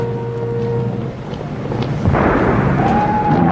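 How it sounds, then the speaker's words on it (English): Broadband rumbling blasts and crackling noise with a rising wail, dense and loud throughout, bombs falling on London streets and homes during an air raid, heard over a radio. "You can hear the bombs falling on the streets and the homes."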